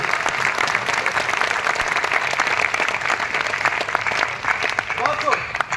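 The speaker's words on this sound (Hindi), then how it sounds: "जोर से बजाओ, ताली बजाओ।" Applause from an audience at a Hindi poetry recital in Indore, steady dense clapping filling the whole stretch, with a voice briefly breaking through near the end.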